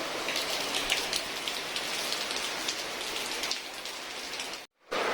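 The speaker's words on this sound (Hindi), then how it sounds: "तेज़ बारिश हो गई है, आवाज़ यहाँ तक आ रही है" Heavy rain pours steadily outside, a dense, loud hiss of drops hitting surfaces that holds constant for several seconds, then cuts out abruptly near the end before briefly returning.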